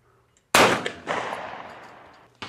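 A CZ SharpTail side-by-side shotgun fires at a clay target outdoors: one loud, sharp blast with a ringing decay, then a quieter crack half a second later, and another abrupt report starts just as the sound ends.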